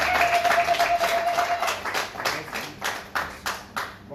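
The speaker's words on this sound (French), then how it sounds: "Applaudissez pour le papa." Applause for the bride's father at a civil wedding ceremony: a steady burst of clapping from a small gathering, with a few louder, sharper claps standing out toward the end.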